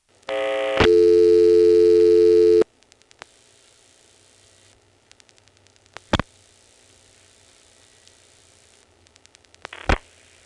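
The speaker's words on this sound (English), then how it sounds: "let's call into the PBX. We'll start by dialing 49 to drop the register sender" Telephone call placed through a 1977-era PBX with senderized XY step switching in Prince William County, Virginia, dialing toward Dale City: a steady loud tone, then sparse clicks and a few sharp switching bursts over quiet line hiss.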